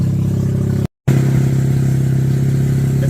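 Replacement rotary engine in a Mazda RX8 running steadily and held at raised revs, a loud, close, even drone with a brief cut partway through.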